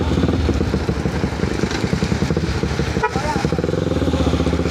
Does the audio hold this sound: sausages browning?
no